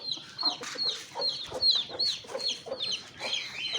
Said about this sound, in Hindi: मुर्गियां सिंधी सिंधी नस्ल की हैं।